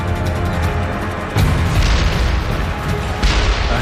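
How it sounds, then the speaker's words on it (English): A deep, booming blast as a German mine destroys a half-track in an armored column, a loud, rumbling low-heavy detonation followed by a second surge of roar, with no talk. "A half-track in the column is destroyed by a German mine."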